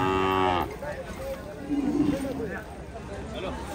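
A bull lows loudly near the start at a bullock cart race, a single short drawn-out moo, followed by crowd noise and voices talking over a busy outdoor background.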